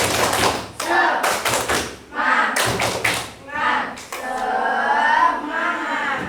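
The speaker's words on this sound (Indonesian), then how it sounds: "Seperti biasa, tepuk semangat." A group claps out a rhythmic pattern in sharp bursts while chanting together in unison, loud and close.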